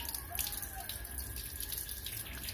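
Water trickles and splashes steadily out of the small jet holes of a cleaned carburetor during a final check, a continuous close faucet-like flow with faint dripping.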